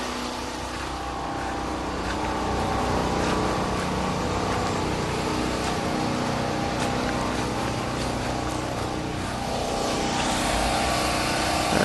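A Powermate portable generator's engine runs at a steady, loud drone heard from some distance away, holding constant throughout with a slight swell near the end.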